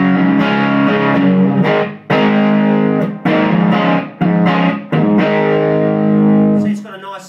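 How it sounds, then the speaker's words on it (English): A crunchy, overdriven electric guitar plays chords through an amp, with short pauses between strums and a ringing tail at the end. "See, it's got a nice barking, kind of warm, half-dirty rock sound to it there."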